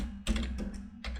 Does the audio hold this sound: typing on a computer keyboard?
yes